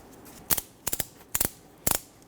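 Ratchet strap on a 2011-2015 Kia Sorento front suspension being worked loose, four sharp clicking bursts spaced about half a second apart, each a quick double or triple ratchet clack, close and fairly loud over a quiet garage.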